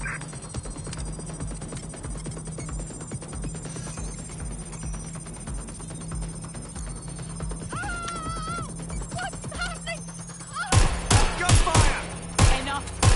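Gunfire in the video game Watch Dogs: a tense ambient bed with a ringing tone and scattered sounds gives way near the end to a burst of sharp, loud shots in quick clusters.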